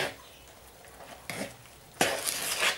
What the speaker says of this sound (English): then we add some milk, keep stirring again